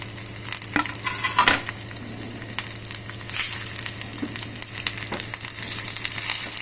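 Green chillies, onions and curry leaves frying in oil for upma, a steady crackling sizzle with repeated spatula stirring and scraping, fairly close.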